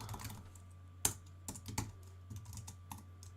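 Someone types CSS code on a computer keyboard, a short, quiet burst of close, uneven keystrokes with a couple of sharper taps and no speech.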